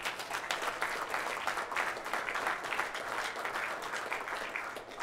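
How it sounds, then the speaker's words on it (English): An audience at a high school college signing ceremony applauds steadily, a dense even patter of many hands clapping for several seconds without voices. "let's give them a round of applause."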